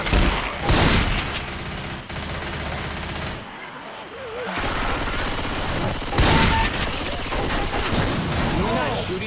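Heavy automatic gunfire rattles through a Left 4 Dead 2 swamp level as players shoot, loud continuous bursts with a brief lull midway, and voices talk over the shooting.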